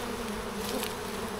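Honey bees droning steadily around a hive entrance fitted with a pollen trap, a constant close-up buzz with no pauses or voices.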